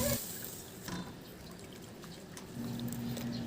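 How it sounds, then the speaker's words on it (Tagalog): Water poured into a pot for Filipino chicken tinola, a steady soft splashing pour that runs throughout, moderately close and fairly quiet, with no talking. "Sa puntong ito, maglagay na ako ng tubig."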